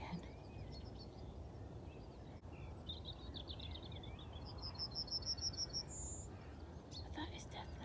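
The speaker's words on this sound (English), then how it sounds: "I just heard a yellow hammer" Faint yellowhammer song of repeated thin high notes in open countryside on a still morning, distant birdsong over a steady low rumble.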